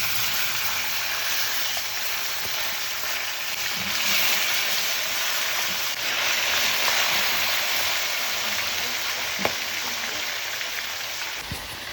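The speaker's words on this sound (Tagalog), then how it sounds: "akong gipulian si Bro Mart sa pagprito sa tilapia" Tilapia frying in hot oil, a steady dense sizzle and crackle like light rain holding level throughout, close and fairly quiet, with one sharper pop near the end.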